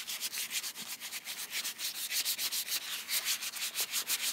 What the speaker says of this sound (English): I just rub it really good into the metal.